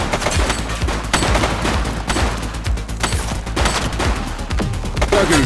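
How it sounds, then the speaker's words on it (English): Dense, loud gunfire from the police game The Precinct: rapid overlapping shots and bursts run continuously through the whole stretch with no pauses. "She's shooting!"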